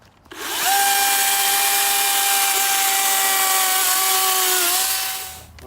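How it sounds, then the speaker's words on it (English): A DeWalt FlexVolt 60V brushless 16-inch cordless chainsaw cuts through tree limbs with a steady, loud, high electric whine. The pitch sags slightly under load partway through, then the motor spins down at the end. "this chainsaw is eating through it with no problem"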